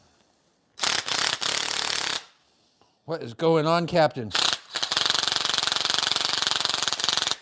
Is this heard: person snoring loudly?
no